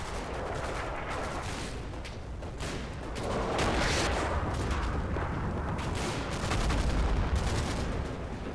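Machine gun fire in Combat Mission: Battle for Normandy, set in WWII Normandy, heard as dense, continuous crackling bursts over rumbling background battle noise, loud and growing heavier toward the end, with no talk.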